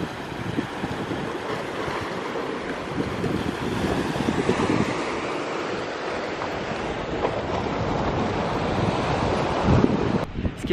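Sea waves wash against the shore beside a roundabout and car park, mixed with steady wind buffeting the microphone, a continuous loud roar with no talk.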